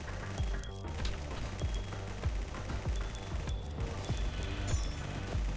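Rapid automatic gunfire from a weapon in Nimrods: Guncraft Survivor, a steady stream of close, punchy shots with mechanical clatter running continuously without pause.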